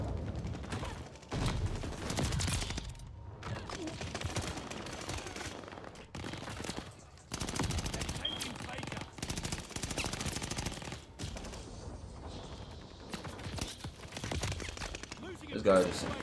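Rapid bursts of DP-27 light machine gun fire in Call of Duty, loud sustained volleys broken by short pauses, with a player talking over the gunfire.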